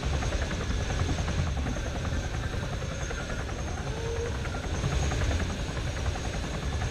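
A helicopter in a military video game thrums continuously with a rapid rotor chop and engine drone, moderately loud and steady, with no speech over it.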